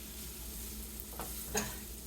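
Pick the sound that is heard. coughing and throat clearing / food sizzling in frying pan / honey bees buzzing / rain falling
food sizzling in frying pan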